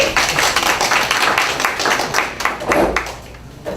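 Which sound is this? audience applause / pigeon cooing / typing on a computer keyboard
audience applause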